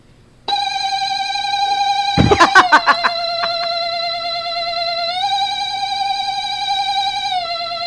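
A steady electronic ringing tone plays continuously after a brief silence, with a short burst of clattering noise partway through.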